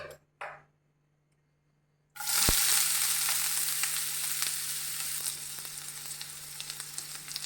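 Chopped onions hit a hot pan for bhindi masala after a near-silent pause, bursting into a loud, close sizzle that settles into a steady frying hiss with faint stirring ticks.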